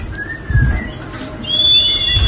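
A magpie robin (murai) singing: clear whistled phrases and sliding notes close by, moderately loud, with low rumbling background noise underneath.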